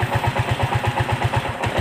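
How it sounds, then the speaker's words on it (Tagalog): A small motorcycle engine, just brought back to life after a hard-starting fault was fixed by priming the block with gasoline and refitting the spark plug, idles steadily nearby with a rapid, even putter and no voices. "umandar yung ating motor"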